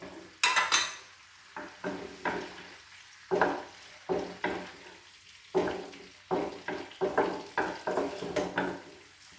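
Ginger and garlic sautéing in a pan for a roasted chicken curry, a gentle sizzle broken by repeated loud scrapes and stirring strokes of a spoon at an uneven rhythm.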